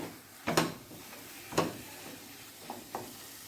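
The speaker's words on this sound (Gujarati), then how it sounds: "આપણા શક્કરિયા શેકાઈ ગયા છે" Sweet potato roasting in a pan gives a soft, quiet sizzle, broken by a few scraping stirs that come in short bursts.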